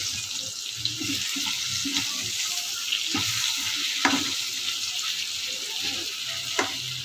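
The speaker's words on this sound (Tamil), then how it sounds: "இதை அப்படியே கிளறிங்க" Raw banana pieces for a spicy Tamil-style fry sizzle steadily in a pan with home-ground chilli powder, while a spatula stirs them with occasional scrapes and clinks, close and continuous.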